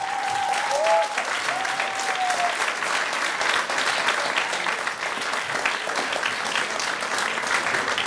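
Sustained applause from an audience at an Advent community event in Szilas, welcoming the resident accompanying band, steady and dense throughout with a few brief whistle-like tones near the start.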